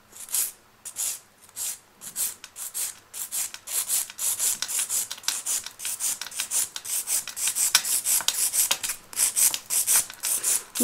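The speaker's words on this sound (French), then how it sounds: "je vais passer à la lime côté plus doux, la lime côté grain 180" Gel nail polish being filed off with a 180 grit nail file, a steady run of short, close rasping strokes with a quick back-and-forth rhythm that carries on throughout with no talking.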